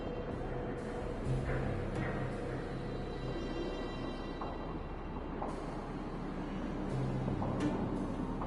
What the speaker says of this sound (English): Do Fragmentum monsters usually sound like this?